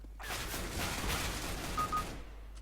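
Dense, noisy bursts of CS:GO gunfire crackle over a steady low hum, with no voices.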